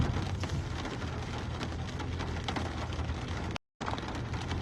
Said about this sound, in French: Pour tout vous dire, il pleut fort.